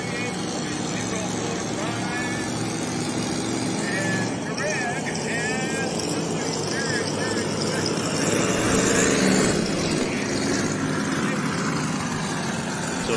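A pulling truck's engine roars at the hit of the throttle during a truck and tractor pulling event in Wellington, Ohio, a loud, continuous rumble heard from a distance throughout.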